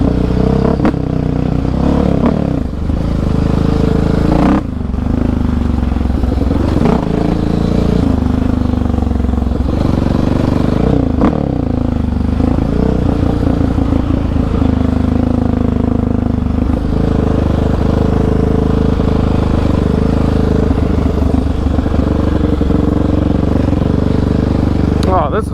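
Yamaha Raptor 700 Stage 3 ATV ridden off-road near power lines at Iron Mountain Park, its loud engine droning and revving steadily throughout, with rattling clatter and scraping from the rough trail and a shaking camera mount.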